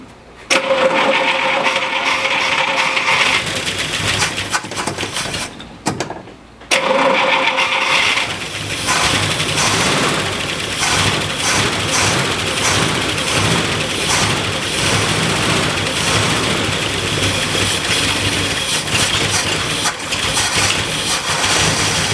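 An old car engine with no muffler cranks, stalls briefly, then fires up and runs loud and rough, a close, raw, continuous mechanical clatter for the rest of the stretch.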